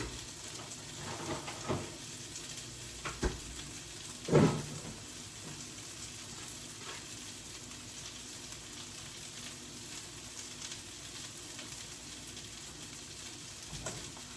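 Eggs frying in butter in a pan make a steady, quiet sizzle with a few brief pops and stirring scrapes, heard close with no talking.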